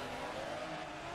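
A Maserati race car engine roars continuously at high revs in the Forza Motorsport 2 racing game, loud and steady with no pauses.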